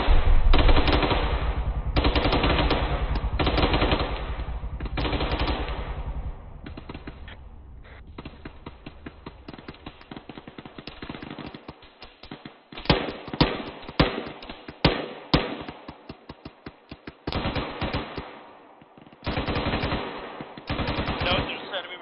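Machine gun fire during squad training, sustained rapid bursts loud and close at first, then broken into shorter sharp volleys and single cracks with pauses, voices intermittently heard among the shots.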